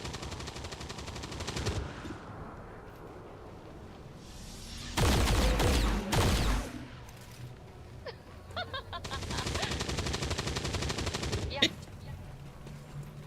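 Rapid automatic gunfire from the video game XCOM 2 erupts in loud bursts, one long volley mid-clip and another later, with a voice talking over the quieter stretches between them.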